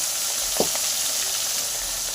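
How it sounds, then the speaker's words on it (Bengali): Katla fish pieces frying in hot oil over a high gas flame, a steady loud sizzle with one brief clink of a utensil, no voices. "তো কাতল মাছগুলোকেও ভেজে নিচ্ছি"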